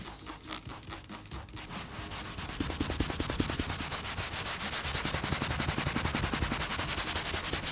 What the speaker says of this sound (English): give the entire mat a good scrub down